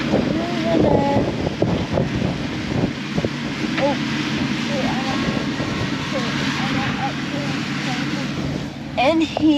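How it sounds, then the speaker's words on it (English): Strong gusting wind buffets the microphone outdoors at a farm where a digger is moving dirt. It is a constant, loud rumbling roar throughout, with a voice talking over it. "Oh, really windy right now."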